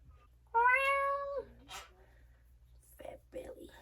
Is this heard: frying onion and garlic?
no